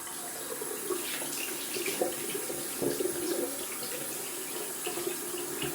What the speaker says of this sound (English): Rinsing of the brush down here.